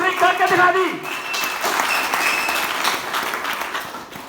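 A seminar audience in India claps in a dense, sustained round of applause that follows a speaking voice and continues evenly to the end.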